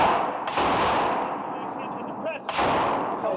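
A Faxon ARAK-31 rifle fires at SHOT Show 2015, two sharp, loud gunshots about two seconds apart, each followed by a ringing echo.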